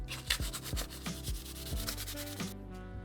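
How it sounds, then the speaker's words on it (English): A 500 grit standard sanding pad rubs back and forth over the end of a hardline PC cooling tube in steady, rhythmic strokes, close up and alone, with about seven scrapes. "I'm going to try this end with just a 500 grit standard pad"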